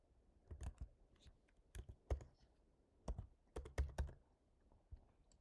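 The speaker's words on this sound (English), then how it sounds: "So let me name this Mary's Hub" Someone types a project name on a computer keyboard, a short run of crisp, close key clicks in uneven bursts with small gaps, quiet and without voices.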